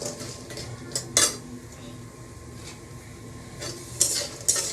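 Lentil fritters (bora) frying in a pan, with a low steady sizzle of oil beneath sharp metal clinks and scrapes of a utensil against the pan, a few louder knocks standing out.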